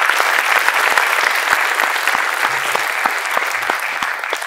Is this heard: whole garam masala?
no